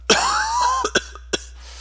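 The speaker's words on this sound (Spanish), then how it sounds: "Pinche tos." A single sharp cough opens, followed by a few shorter coughs spaced apart, close and fairly loud, with no talking.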